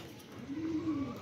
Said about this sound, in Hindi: ये भी थोड़ा ब्लैक और वाइट कबूतर है